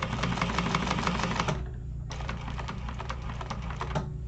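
A sewing machine basting a seam on a Lemonza wallet, with a fast, steady stitching patter that pauses briefly midway before running on again, close and fairly quiet, with no talking.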